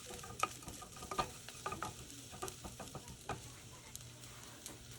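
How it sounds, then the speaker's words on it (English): Diced tomatoes hit a pan of frying diced onion, chopped garlic and jalapeno, giving a low steady sizzle with scattered stirring scrapes and clicks of a utensil, close and fairly quiet, no voices. "The next thing we're gonna add is our diced tomatoes."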